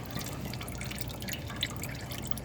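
Engine oil draining from a Fiat 500X during an oil change, heard as a steady, close trickling and dripping of liquid, with no talking.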